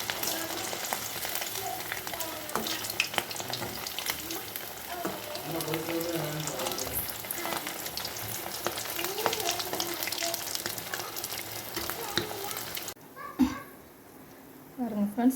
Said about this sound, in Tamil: நம்ம நல்லா பொரிய விட்டு எடுப்போம்